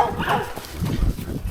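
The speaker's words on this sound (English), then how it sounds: "Here's what I was talking about with all the dogs. They come blasting out here" Dogs bark and yip at horses along a Tennessee trail ride, in a quick, lively burst of close barking with some rustling.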